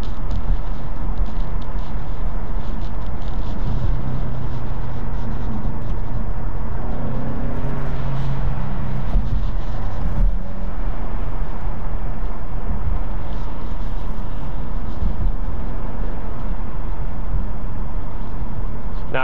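A 2015 Ford Mustang EcoBoost turbocharged engine builds steadily under acceleration, a loud continuous drone with a rising whine around the middle as the turbo spins up, heard from inside the car.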